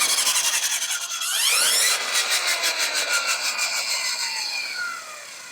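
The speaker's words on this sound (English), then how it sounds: "with this trimmer plus attachment attached, you can spin this up" A Ryobi 40V string trimmer with a trimmer plus attachment fitted spins up close by, a loud, rising high-pitched whine that settles into a steady buzzing drone before dropping off at the end.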